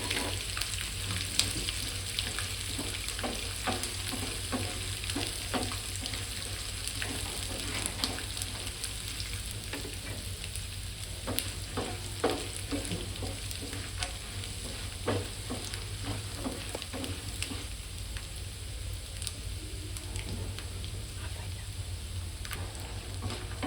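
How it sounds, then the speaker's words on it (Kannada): Peanuts, garlic and dry red chillies frying in oil for masala poha, giving a steady sizzle with light scraping of a spoon, close and continuous throughout, alongside a low steady hum. "ಸ್ವಲ್ಪ ಶೇಂಗಾ ಫ್ರೈ ಆಗಿಂದೆ ಈಗ ಬೆಳ್ಳುಳ್ಳಿ, ಒಣಮೆಣಸಿನಕಾಯಿ, ಬೆಳ್ಳುಳ್ಳಿ, ಒಣಮೆಣಸಿನಕಾಯಿ ಸ್ವಲ್ಪ ಫ್ರೈ ಆದಮೇಲೆ ಪುಟಾಣಿ"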